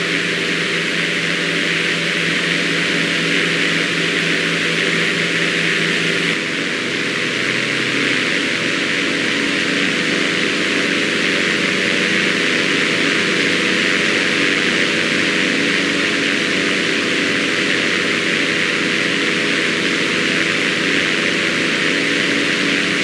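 A simulated aircraft engine hums in a loud, unbroken drone while the plane taxis slowly in Microsoft Flight Simulator, with a steady hiss and no pauses.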